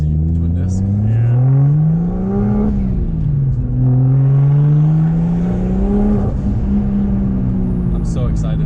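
Single-turbo BMW 335i with a twin-disc clutch on new tires accelerating hard, loud engine drone climbing in pitch through repeated gear pulls with brief dips at shifts, heard from inside the car with occupants talking over it.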